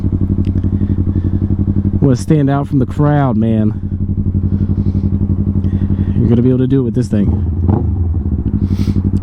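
A Yamaha R3 motorcycle fitted with an Akrapovic full system exhaust idles steadily and close, blipping its throttle in two short bursts of revving, while someone talks over it.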